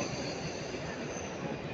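A steady, continuous rumble of a small 009 narrow-gauge model railway locomotive at a model railway exhibition, with a constant rolling hiss and no pauses, fairly close.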